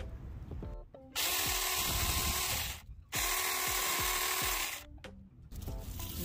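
A Saker mini chainsaw trimming plants in a sunroom whines loudly in two sustained cutting runs, each starting and stopping abruptly, with short quiet gaps and motor spin-down between them.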